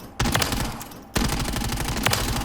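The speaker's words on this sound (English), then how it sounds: "let's do a little bit of a recoil test here and shoot the dummies" IWI Tavor TAR rifle in Modern Warfare III fired at training dummies: two rapid automatic bursts of sharp, loud shots, the first brief and the second longer, separated by a short pause.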